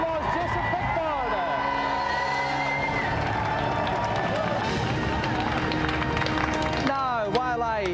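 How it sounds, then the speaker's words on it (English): Studio audience at a televised video-game show applauds and cheers for a contestant, a dense continuous wash of clapping and whoops under loud music, with a brief sharper burst near the end. "Another round of applause, Jason Pickford."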